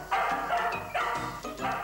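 A pack of dogs at an animal shelter barks in quick succession, about four sharp, fairly loud barks overlapping with a steady background hum.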